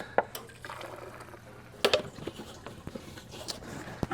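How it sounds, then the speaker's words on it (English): Half a gallon of fuel poured into the tank of a long-junkyard car being revived, a near splashing trickle with clunks and drips, no voices. "I'm gonna add this half a gallon just to clean out any crud that may be on the bottom of the tank"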